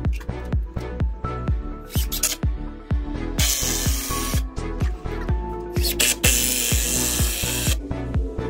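Power drill driving screws into a wooden fence post for a lattice privacy fence, a rapid run of rhythmic ratcheting bursts, close and loud, with a couple of short hissing spray-like bursts between.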